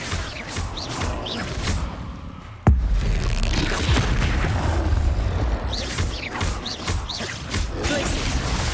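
An Expulso spell explosion in Hogwarts Legacy: a sudden loud blast partway through, set among continuous rumbling battle effects and swishing spell sounds.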